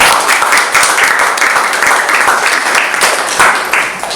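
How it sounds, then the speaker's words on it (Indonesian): A lecture-hall audience at an Indonesian university teaching session claps together for a lecturer, a steady, fairly loud patter of many hands lasting a few seconds with no pauses. "tepuk tangan buat Bu ya"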